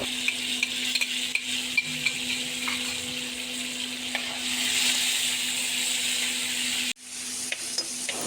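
Ginger garlic paste and chopped tomatoes cook in a pan for a chicken lacha paratha filling, giving a steady close sizzle with occasional stirring scrapes. The sizzle breaks off briefly near the end, then resumes more quietly.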